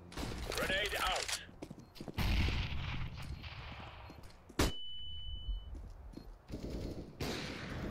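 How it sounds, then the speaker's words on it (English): A flashbang grenade going off in Counter-Strike, a sharp loud burst followed by a sustained high ringing tone, amid scattered gunfire and clatter from the game. "Throwing flashbang"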